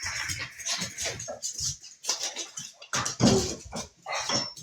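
A puppy barks repeatedly indoors in short, uneven bursts, close and fairly loud, with a few yips and whimpers between the barks.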